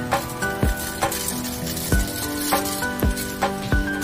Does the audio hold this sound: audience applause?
no